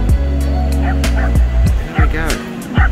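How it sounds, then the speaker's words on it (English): A dog on a beach gives a run of short, close barks and yips in an irregular rhythm, loud against steady wind or surf. "Hello doggy."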